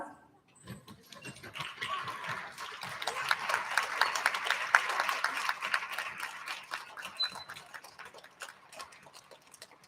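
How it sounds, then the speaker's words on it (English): Audience applauding students who stood to receive attendance medals at a school recognition ceremony, clapping that swells in the middle and then thins out, with scattered sharp individual claps at the edges. "can you please stand up so we can give you a big round of applause?"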